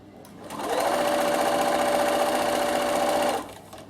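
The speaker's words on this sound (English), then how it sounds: "I top stitch running my foot along the edge down one side" A sewing machine runs a single steady burst of top stitching at a lengthened stitch of 3, starting and stopping cleanly after about three seconds, close and clear.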